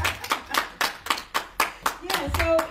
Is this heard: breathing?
no